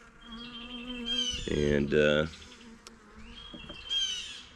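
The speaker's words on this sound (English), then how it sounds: "There's a little cluster of bees" A small cluster of honeybees buzzes on a hive frame, with a dense drone that swells and fades and higher whining tones, while someone speaks briefly over it.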